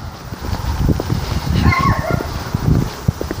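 A dog barks a few times amid steady background noise, with a brief chirp of birdsong near the middle.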